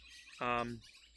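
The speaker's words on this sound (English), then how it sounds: "sorry about the background birds" A single brief bird call rings out outdoors, loud and close against a quiet background, lasting under half a second.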